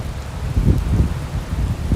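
Rain at the Lake Huron shoreline near the Blue Water Bridge, a steady close patter with low wind rumble pulsing underneath, no voices.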